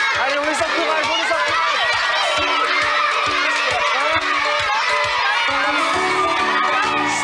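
Children in a TV game-show studio crowd shout and cheer on the competing teams, a loud, continuous wall of young voices with whoops and excited calls, and an adult voice speaking over the noise.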